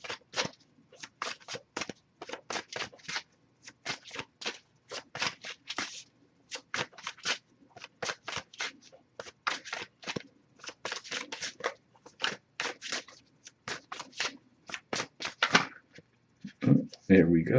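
Tarot cards shuffled by hand in a long run of quick riffling bursts, close and fairly quiet, with a brief rustle at the end.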